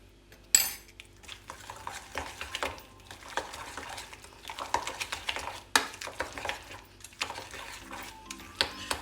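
Close, busy clatter of a utensil stirring salt through chopped lettuce and parsley in a bowl for a Turkish teratur meze, with irregular scraping and light clinks running steadily throughout, no voices.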